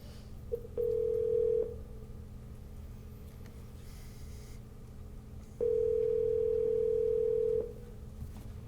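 Telephone dial tone on an outgoing call during a Lynchburg Economic Development Authority meeting, two steady tone bursts, one short and one longer, over low room hum with no talk.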